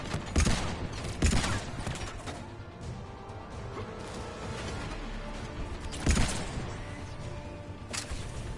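Gunfire in the sci-fi shooter Mass Effect 3 during a firefight: several sharp, heavy impacts and crashing shots scattered over a continuous rumbling battle bed, with the loudest blasts near the start and again later.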